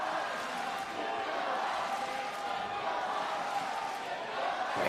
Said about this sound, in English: the crowd, they really make their voices heard